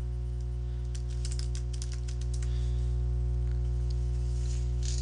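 Password being typed on a computer keyboard, a quick run of light key clicks over a steady electrical hum, ending in quieter hum.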